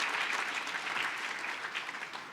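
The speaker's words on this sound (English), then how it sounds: "please give a round of applause there" A round of applause breaks out at a community Friends & Neighbors breakfast, a thick, steady patter of many hands clapping that fades slightly toward the end, heard alone without talk.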